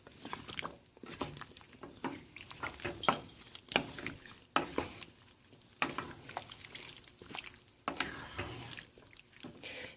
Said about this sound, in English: add the potatoes and carrots into the mixture